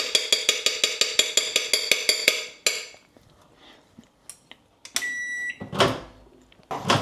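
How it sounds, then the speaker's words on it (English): A microwave oven heating cream of rice gives a quick run of close, sharp beeps, then a faint hum with small clicks and clunks, and a steady tone near the end. "I am actually going to stick that in the microwave though for 30 seconds to thicken it up."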